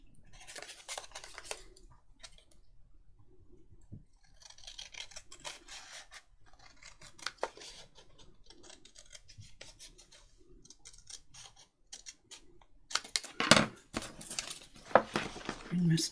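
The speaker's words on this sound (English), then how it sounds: "Let's cut it off and we'll see." Scissors cutting paper for a junk journal make soft repeated snipping and rustling, faint and close, with louder handling clatter near the end.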